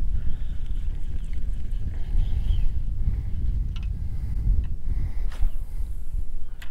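Wind buffets a fishing boat on the water off Florida, a constant low rumbling roar against the microphone with faint scattered knocks and rustles, steady and close throughout.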